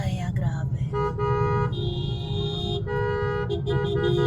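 Car horns honking in heavy traffic in Caloocan, a long sustained blare overlapping shorter toots over a steady rumble of engines, close and loud, with a voice talking over it.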